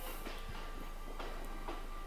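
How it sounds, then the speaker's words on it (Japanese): A Kintetsu electric train moving at Nabari depot in the early morning, heard as a steady low rumble with faint rhythmic wheel clicks, fairly quiet and distant with no voices. "唐突に現れたこの電車ですね。"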